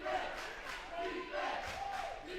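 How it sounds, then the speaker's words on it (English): A pro-Eagles crowd at a men's basketball championship game between Arlington Baptist and Rhema roars and shouts in a continuous, mid-distance wash, with an announcer's voice over it. "It's a pro Eagles crowd here"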